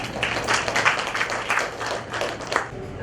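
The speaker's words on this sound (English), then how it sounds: "Please give them a big round of applause." An audience at a public poetry workshop claps in a brisk, fairly even round of applause, moderately close and moderate in volume, sustained for a few seconds with no talking over it.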